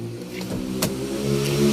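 A 2008 Toyota Innova E's 2.5 diesel engine idles steadily with a low, even hum and a faint harmonic drone, close by and moderately loud, with one brief sharp click partway through.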